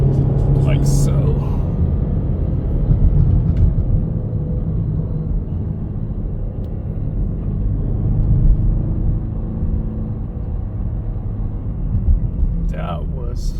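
A 2024 Ford Mustang convertible's inline-4 turbo engine pulling through a curve at night, a continuous loud low rumble heard from inside the car with road and wind noise, and a voice speaking over it.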